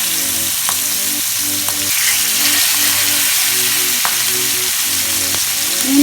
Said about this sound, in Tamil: இப்போ எண்ணெய் நல்லா சூடாயிடுச்சு. மீன் போட போகிறேன்.